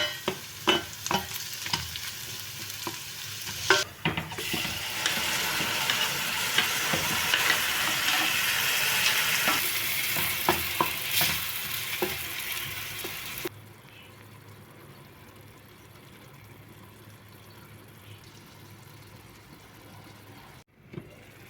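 Peppers and onions fry and sizzle in a pan for menemen as a spoon stirs them, a bright crackling hiss with repeated scraping clatters that later drops to a softer, quieter simmer.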